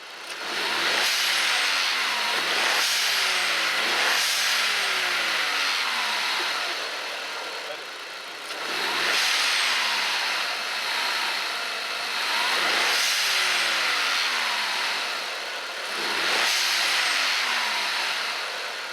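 Car engine revved repeatedly with an aftermarket blow-off valve fitted, each rev rising then dropping with a sharp hissing release, recurring several times at close range.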